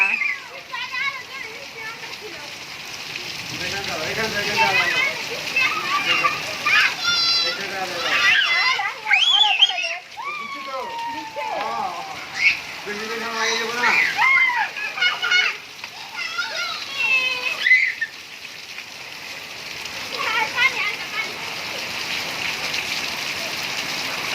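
Steady rain pours outdoors while children bathe and splash in it, with their excited voices and chatter rising and falling over the hiss of water throughout.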